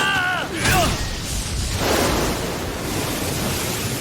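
Large anime-style waves surge in a broad, loud rushing wash with wind-like hiss. It follows a brief tonal sweep and swells again midway, with a voice faintly mixed in early.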